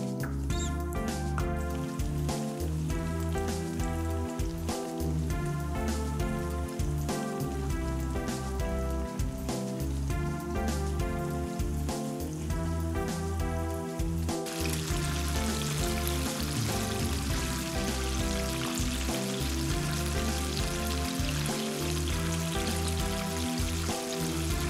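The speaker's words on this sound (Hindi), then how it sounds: "अब इनको फ्राई कर लेंगे चिकन को।" Chicken wings sizzle steadily in hot oil, a dense, loud, continuous crackle like heavy rain that runs unbroken throughout with no talking.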